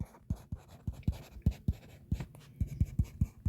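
Pen strokes scratching on paper while a math problem is worked out, a series of short, crisp taps and scrapes in an irregular rhythm, close and fairly quiet with no talking.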